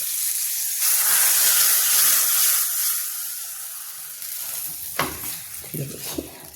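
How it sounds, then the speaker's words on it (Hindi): Spices sizzle and crackle loudly in hot oil for tempering a lentil and spinach dish, with a steady frying hiss, followed by a few sharp pops and stirring clatters. "देखिए लग गया मेरा तड़का।"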